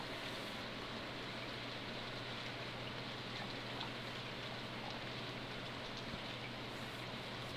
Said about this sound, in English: Oh, rainy days.